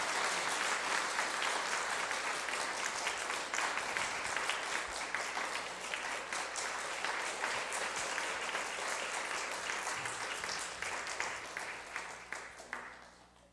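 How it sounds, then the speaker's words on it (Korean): Congregation clapping in a Korean Presbyterian church service, a dense, steady burst of applause that fills the room evenly and tapers off near the end. "박수로 축하드립니다."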